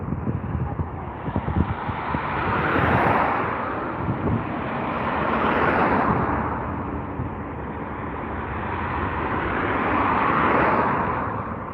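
A jet airliner arrives at London Heathrow, its broad engine roar swelling and fading in slow waves as it passes, loud and close with no talk over it.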